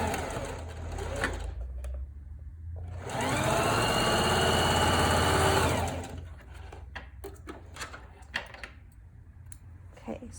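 Sewing machine straight stitching a fabric face mask, a steady mechanical whir for a few seconds, framed by quieter handling clicks and a person talking before and after.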